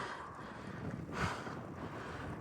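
Wind rushing and buffeting across the microphone of a cyclist riding uphill, a low steady roar that swells briefly midway, with no voices.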